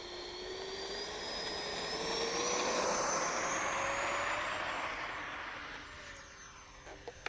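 Freewing 70mm F-22 Raptor RC jet with an electric ducted fan taking off, a loud whine that sweeps upward in pitch as it swells, peaks, then fades into the distance, ending with a few sharp clicks.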